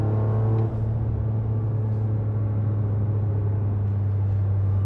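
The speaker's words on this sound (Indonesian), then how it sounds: "Tapi tetap ngebas, apalagi kalau misalnya kita lepas gasnya seperti ini." Toyota GR Yaris fitted with a Remus exhaust, throttle released: a loud, steady deep bass burble and rumble close to the tailpipe, holding continuously after a brief dip, with no talking.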